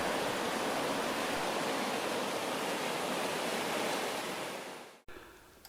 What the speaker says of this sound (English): We walk on past the statue and come to the old town mill. This sits alongside part of the River Itchen.